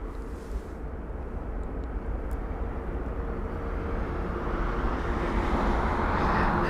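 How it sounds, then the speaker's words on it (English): An Emirates Airbus A380 at London Heathrow produces a broad, rumbling jet roar that grows steadily louder as it approaches. The sound is distant at first and swells toward the end. "There's the Emirates 380 once again."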